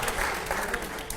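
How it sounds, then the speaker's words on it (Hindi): Audience applause at a televised question session, a brief burst of clapping from a crowd that holds steady for about a second. "अगले सवाल से पहले जोरदार तालियां हो"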